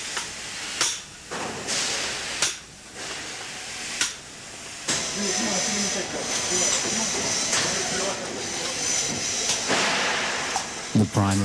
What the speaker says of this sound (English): The primary tongue is stretched out and flanged in this position by making a snug with this pneumatic machine.